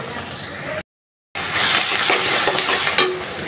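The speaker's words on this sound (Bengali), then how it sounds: "পেঁয়াজটা ভাজা হয়ে গেছে" Onions frying in a pan as the base for a thin beef curry, a steady close sizzle with scraping stir strokes, broken by a short gap of silence partway through.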